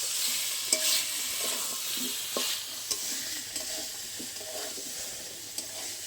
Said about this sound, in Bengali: সবজির সাথে মশলাটা একদম ভালো কষা হয়ে গেছে